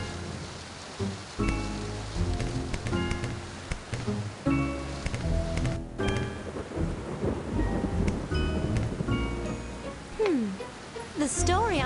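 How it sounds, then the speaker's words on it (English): A thunderstorm with rain in the ClueFinders 5th Grade Adventures computer game, with rumbling thunder and steady rain running under game music and character voices for about twelve seconds. "If this storm doesn't get us first."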